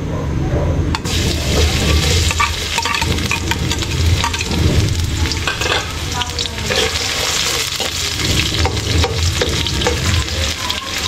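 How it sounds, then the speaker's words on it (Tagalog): Garlic and onion fry in hot oil as a base for creamy salted egg pasta, giving a loud, continuous close sizzle with bubbling crackle throughout. "Mainit na po yung mantika natin. Lagay tayo ng bawang, sibuyas."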